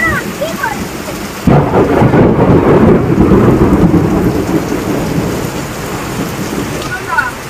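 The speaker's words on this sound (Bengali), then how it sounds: "দেখো প্রচন্ড জোরে ঝড় হচ্ছে, বৃষ্টি হচ্ছে" Heavy storm with a sudden close thunderclap followed by a long rolling rumble over steady, loud rainfall, the rain continuing throughout.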